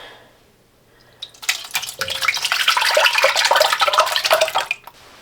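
Bone broth, partly frozen, poured into a pot, a steady close splashing and gurgling pour lasting about three seconds after a quiet start, tapering off abruptly.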